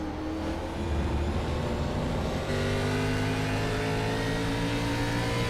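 Xfinity Series race car engine at the Milwaukee Mile roaring loud and steady from on board, held at high revs with a shift in pitch partway through, no fuel saving; no talk over it.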